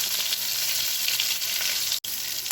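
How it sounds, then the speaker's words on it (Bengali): Eggplant pieces sizzle steadily in hot oil on a low gas flame, a continuous close frying hiss with a brief dropout near the end. "আমি আস্তে আস্তে পুরো বেগুনগুলো খুব ভালো করে এপিট ওপিট করে ভেজে নেব"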